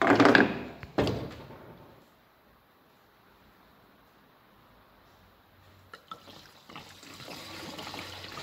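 Fuel being poured from a can into a Renault 5 Maxi race car, about 15 litres, starts with a few loud knocks and clunks, then settles into a faint, steady trickle before a louder splashing return.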